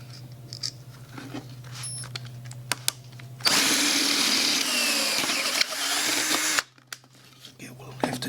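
Power drill boring a hole through a wooden rolling pin, a steady loud whine lasting about three seconds and then stopping abruptly, with quieter workshop clicks and handling noise before and after.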